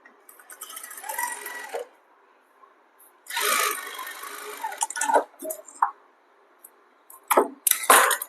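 Sewing machine stitching a front-open kurti, running in short bursts of fast mechanical whirring with pauses between, close and fairly loud, no voices.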